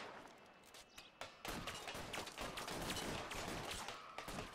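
Gunshots in L.A. Noire Remastered, heard as a dense, fairly quiet burst of rapid shots and impacts that grows busier after a few isolated cracks.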